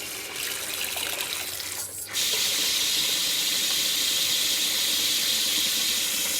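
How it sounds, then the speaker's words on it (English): Water running steadily from a kitchen tap into a sink while washing dishes, a close, bright hiss that briefly dips and then returns stronger and continues without a break, with no talking. "I'm going to turn some water on"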